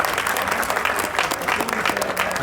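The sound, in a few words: applause welcoming the minister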